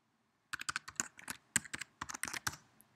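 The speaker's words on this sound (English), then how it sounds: "Select all and type your password." A password is typed on a computer keyboard: after half a second of silence comes a quick, uneven run of close, crisp keystrokes that continues to the end.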